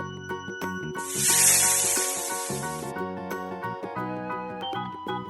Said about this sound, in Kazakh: Жылан.